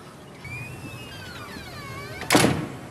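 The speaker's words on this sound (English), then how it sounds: "Shuts the door fairly loudly behind herself, leaving Abraham outside" A door in a tense scene from The Walking Dead slammed shut with one loud, sharp thud near the end, following a quiet stretch of high whistling tones and faint background noise.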